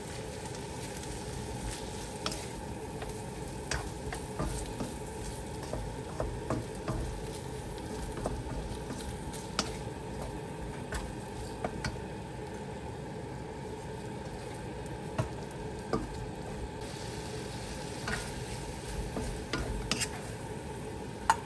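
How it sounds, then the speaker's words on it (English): Fish balls and prawns fry in a wok for Malaysian Hokkien mee, giving a steady, close sizzle with crackling pops and light spatter that runs evenly throughout, with no voices. "I add in the fish balls and prawns."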